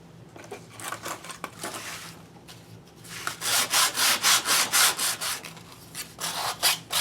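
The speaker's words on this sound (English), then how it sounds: "I'm going to just sand the edges here." Sandpaper rubs over the edges of an old book cover in quick back-and-forth strokes, with a slower scraping passage first and then a burst of rapid, even rasps close up.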